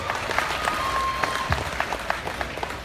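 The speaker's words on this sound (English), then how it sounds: "Please give another big round of applause to Savannah Graves from New Mexico" A crowd at a livestock show in Arizona claps for a young exhibitor, steady moderate applause heard from the stands with a few louder individual claps.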